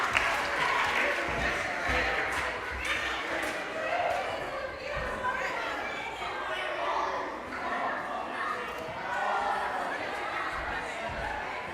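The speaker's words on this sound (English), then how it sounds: "Big round of applause for everybody for standing up and dancing." An audience at a talent show claps steadily throughout, a sustained wash of applause mixed with crowd chatter and voices talking over it.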